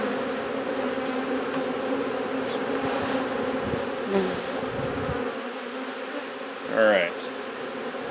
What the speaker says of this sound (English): so we've got enough worker bees out for now